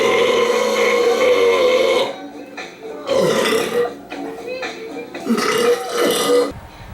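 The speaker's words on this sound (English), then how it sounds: "As you can see, we got a couple pretty solid burps there." Several loud, drawn-out burps come one after another right after a beer is shotgunned, with short pauses between them and no other sound.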